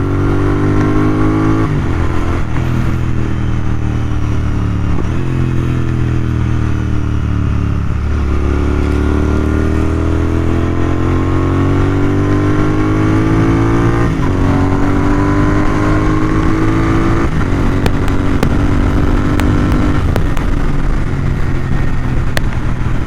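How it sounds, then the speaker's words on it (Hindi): Motorcycle exhaust heard while riding, a loud continuous engine note rising and falling through repeated gear shifts and throttle changes, with steady wind noise throughout and no talk. "बाकी आप बताओ एग्जॉस्ट की आवाज़ कैसी आ रही है"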